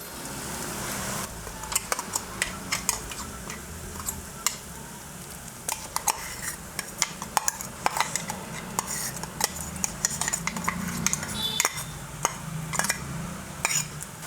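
Coconut and turmeric stirred into a drumstick leaf stir-fry on low flame, a spatula scraping and clinking against the pan in quick irregular strokes over a soft background sizzle, close and fairly loud.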